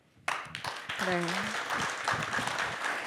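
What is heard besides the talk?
audience applause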